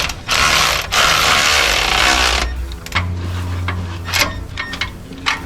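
A ratchet tightens the flange bolts during an Air Lift 7500XL install on a 2022 Chevy 2500HD turbo diesel truck: a loud, steady rasp of clicking followed by shorter, irregular click bursts over a low hum, close up and without speech.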